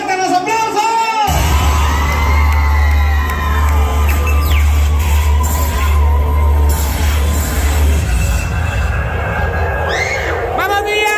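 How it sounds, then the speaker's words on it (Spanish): Crowd whooping, yelling and cheering during a surprise dance by a girl and her chambelanes at a party, loud and continuous over heavy thumping bass music, with shouted voices rising near the end. "¡Pero fuerte los aplausos!"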